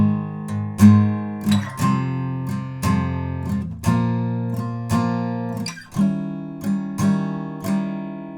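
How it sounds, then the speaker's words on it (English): Electric or acoustic guitar strums power chords for the second line of a song, steady rhythmic strokes roughly every second, close and clear with no voice over it. "if we were trying to play the second line of chords just with power chords and not the full bar chord"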